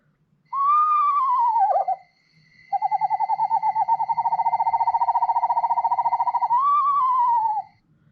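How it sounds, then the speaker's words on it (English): Eastern screech owl giving its call: a clear descending whinny, then a long even tremolo trill, then another falling whinny, close and alone in a quiet night setting. "Eastern screech owl, a descending whinny in a long tremolo."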